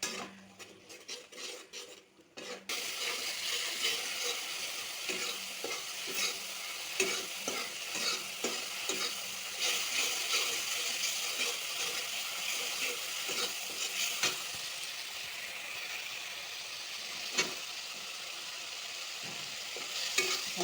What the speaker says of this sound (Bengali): অল্প জল দিয়া কষানো